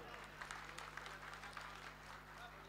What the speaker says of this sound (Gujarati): તાળીઓથી વધાવીએ આપણે